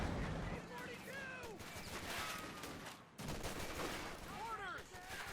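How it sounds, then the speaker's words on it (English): Mortar fire in a Company of Heroes 2 1v1 match sounds over continuous battle noise, with repeated booming shots and whistling shells spread across several seconds. "We got the mortar there firing away."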